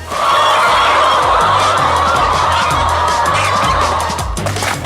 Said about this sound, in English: Ross, your chickens are certainly making a lot of happy noises